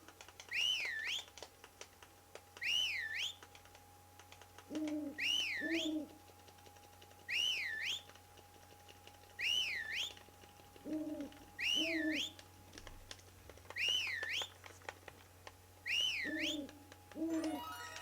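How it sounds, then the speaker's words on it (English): A person whistles a short rising-and-falling phrase over and over at a steady pace, with a lower cooing whistle joining some repetitions over a faint hum. "I'm just gonna finish the whistling now."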